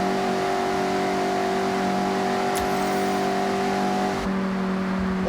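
A Mazda MX-5 in the Forza Horizon racing game drives hard with a steady, droning engine note and tire noise, the pitch holding and then shifting as the car powers through corners.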